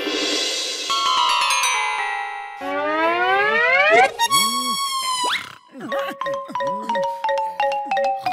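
Cartoon phone ringtone from an animated Hindi comedy series, a bright synthetic chiming melody with descending and rising tonal sweeps followed by repeated pulsing rings, loud and close with no talk over it.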